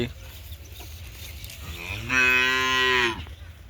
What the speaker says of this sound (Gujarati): આ અમારી ગાય છે. ગીર ગાય છે